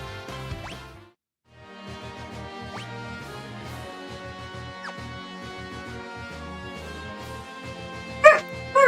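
A pet dog yips, whimpers and barks over steady video game music, with whiny short cries throughout and a sharper bark near the end.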